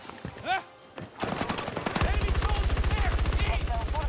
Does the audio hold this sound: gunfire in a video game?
yes